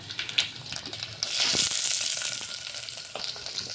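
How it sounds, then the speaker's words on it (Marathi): Mustard seeds, cumin, curry leaves and onion sizzle in hot oil for a tempering. Scattered crackles come first, then a loud, steady sizzle swells up close with a few stirring clicks, and no one speaks. "राई आहे जिरं आहे आणि कढीपत्ता आहे हे तडक्यात द्यायचा आहे आता आणि इथे थोडा कांदा घेतलेला आहे"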